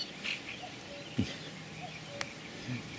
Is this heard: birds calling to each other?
yes